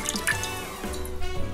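Vanilla milk poured into a pot for a Paris-Brest choux pastry base, a close, steady liquid trickle and splash with small drips, alone without talk.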